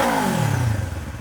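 A Kawasaki Ninja 500 fitted with a Yoshimura exhaust, caught in a quick aggressive rev that peaks and drops away within about a second, close and fairly loud.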